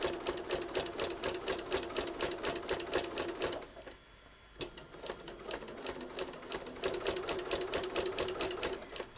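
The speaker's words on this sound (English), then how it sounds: "Once I reach it, I am going to go ahead and back stitch." Sewing machine stitching a single fold binding at a steady rapid rhythm, pausing briefly mid-clip before resuming for a short back stitch, loud and close with no talk.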